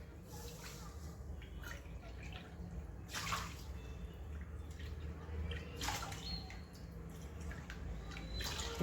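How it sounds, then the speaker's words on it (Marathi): Water is poured into a kadhai holding a quarter cup of sugar for rasgulla syrup. The splashing is faint and uneven, with a few louder gushes over a quiet kitchen background. "त्याच्यामध्ये आपल्याला 5 कप पाणी घालायचं आहे."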